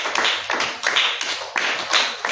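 A church congregation applauds to acclaim Jesus Christ, with rhythmic bursts of clapping in quick repeated waves, close and fairly loud with no talk over it.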